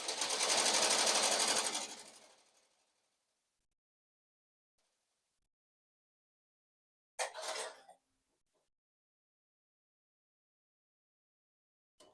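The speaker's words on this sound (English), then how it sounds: "I'm just gonna let it stitch all the way through, and I'm gonna use different thread on top, satin thread at the top." A sewing machine stitches appliqué with satin thread on top. It makes a loud, rapid whirring run of about two seconds that winds down, then a shorter burst of stitching after a long quiet pause.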